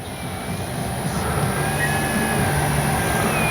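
A Flightline 1200mm F8F Bearcat RC warbird plane flies overhead with a steady electric motor drone and a thin whine that shifts in pitch as it passes at a distance, no talking.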